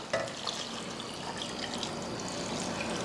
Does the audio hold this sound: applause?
no